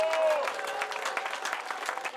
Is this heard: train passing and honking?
no